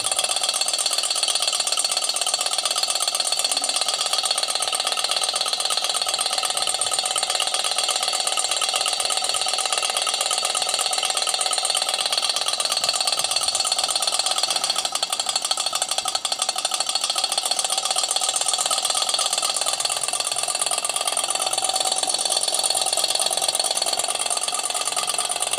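A solar-heated Stirling engine runs outdoors in cold weather, giving a steady, continuous mechanical whir and rattle that stays even and fairly loud throughout, with no voices.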